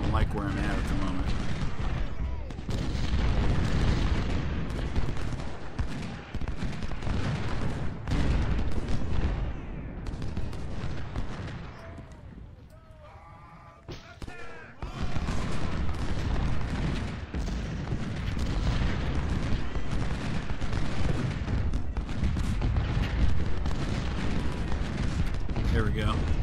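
Dense, sustained musket volleys and artillery booms from Civil War brigades in the strategy game Ultimate General: Civil War's Corinth battle, a continuous loud roar of gunfire that thins briefly midway before resuming.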